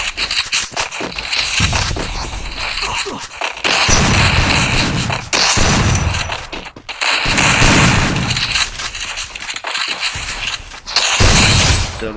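Repeated bursts of shotgun gunfire from a shooting video game, loud, dense blasts clustered in several rapid volleys with brief gaps between them, no talking.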